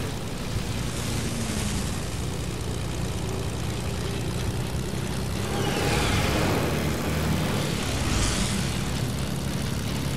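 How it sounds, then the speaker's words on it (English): An airplane engine drones in the Fortnite video game, a continuous propeller hum that swells slightly in places, with no voices over it. "Trev, I'm going like architect side to park the plane"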